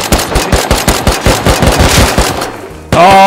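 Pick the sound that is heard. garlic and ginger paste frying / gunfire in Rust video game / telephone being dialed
gunfire in Rust video game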